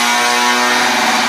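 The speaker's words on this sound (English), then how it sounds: "Neighbors are dyno tuning a car." A car engine revving on a dyno nearby, heard as a steady, loud mechanical drone with a sustained tone, with no talking.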